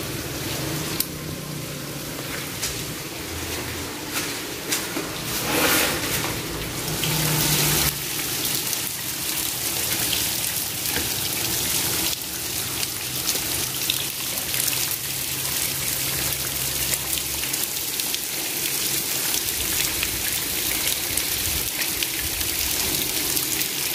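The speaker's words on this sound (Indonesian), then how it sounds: "Pagi-pagi sudah hujan." Heavy morning rain pours steadily outside, a dense continuous hiss of water with splashing and dripping that stays loud and unbroken throughout.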